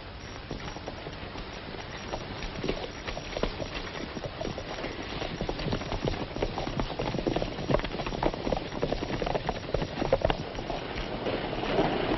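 Horses riding off in a 1936 Western, hooves clip-clopping in a fast, steady patter at middle distance over a constant hiss of old film sound.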